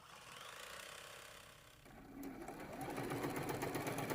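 A sewing machine stitches fabric steadily, its needle whirring and rattling in a fast mechanical rhythm that grows louder and busier partway through.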